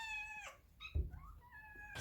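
A young cat or kitten lets out several thin, high meows in quick succession, fairly faint, with a soft thump near the middle and no talking.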